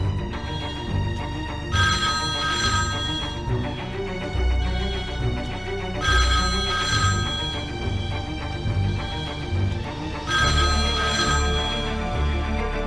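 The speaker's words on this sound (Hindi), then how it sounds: "तभी उस आदमी का फोन बजता है, ट्विन ट्विन।" A phone ringtone plays a repeating melodic ring, sounding in three clear bursts over a steady musical backing, loud and close.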